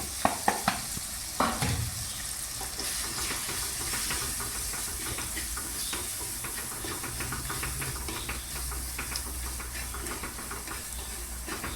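Spices are stirred and fried in a pan for Kerala fish curry: a few sharp knocks of the spoon at the start, then a steady sizzle and hiss with scraping stirs running throughout, close and without talk.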